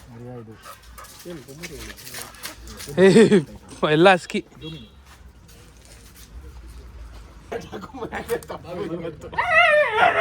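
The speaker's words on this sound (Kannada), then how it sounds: "ಬರೀ ನಾಯಿಗಳೇ ಇದೆ" Dogs let out high-pitched yelps and whimpers in short bursts, mixed with people talking nearby.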